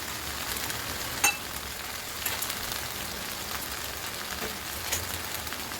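A steady sizzle of string beans cooking in a pan as white vinegar goes in, a soft even frying hiss with a few faint clicks and taps, no talk.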